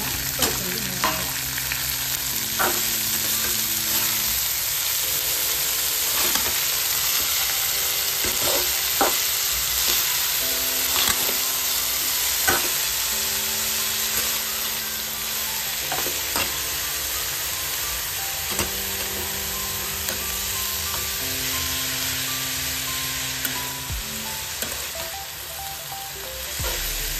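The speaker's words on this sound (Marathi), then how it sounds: "बारीक चिरून घेतलेली शेपूची भाजी आहे, घालून आपण छान आपल्याला परतून घेणार आहोत।" Finely chopped dill greens sauté in a hot pan with a steady, close sizzle, broken by repeated spatula scrapes and stirring clatter throughout, with no voices.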